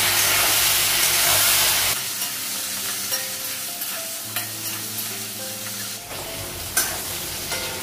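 Potatoes frying in a pan with a strong hiss that drops after a couple of seconds, followed by steady sizzling and occasional stirring clatter nearby.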